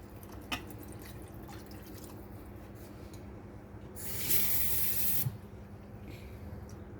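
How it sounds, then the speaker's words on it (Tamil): Water poured into a pan of mushroom gravy, a steady hissing splash lasting about a second near the middle over quiet kitchen background. "இப்போ தேவையான அளவுக்கு நம்ம தண்ணி ஊற்றி குழம்பு மாதிரியே வச்சுப்போம்."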